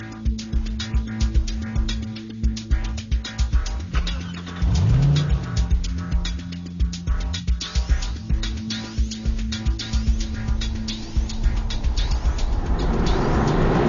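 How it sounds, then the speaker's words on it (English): Aston Martin V8 Vantage with a 4.3 litre V8 burbles steadily while driving, a low rumbling drone with small throttle swells and a brief rise in revs, continuous and fairly close. "It just burbled away like any old V8"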